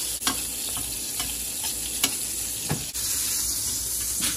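Filet mignon steaks sizzle steadily in a pan as they are basted, a continuous close frying hiss broken by soft scrapes and occasional spoon clicks.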